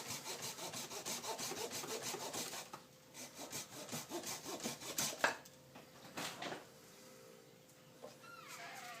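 A hand saw cuts an L-shaped chunk from a bonsai tree trunk, rapid rhythmic rasping strokes close and steady, then slowing into scattered rubs and scrapes of wood.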